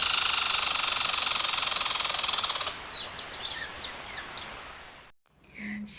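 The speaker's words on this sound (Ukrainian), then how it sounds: "Спів пташок." A dense buzzing drone gives way to a run of bright, repeated chirps and trills from birds singing outdoors in spring, fairly close and clear, then a short silence before a couple more calls.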